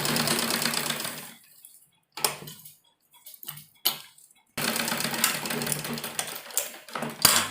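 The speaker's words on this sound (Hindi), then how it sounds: "सब जगह हम इस पर सिलाई लगाएंगे" A sewing machine runs in steady bursts while stitching a baby dress made from a dupatta, with a loud run at the start, short choppy stitching in the middle and another sustained run at the end.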